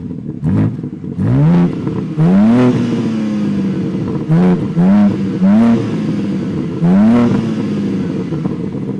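A 2022 BMW M4's engine is revved hard in about five loud, sharp bursts, each climbing quickly and then dropping back to a rumbling idle between blips, close and with no voices.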